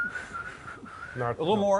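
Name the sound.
person whistling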